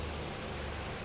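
Steady rain in the Farming Simulator 19 video game, a dense even hiss of falling water that continues unbroken and fairly quiet for the whole moment, with no voices.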